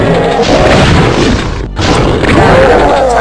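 Gunfire in the 1993 first-person shooter Doom: a dense run of loud, booming blasts that roll into one another, broken by one brief gap partway through, heard alone with no talk.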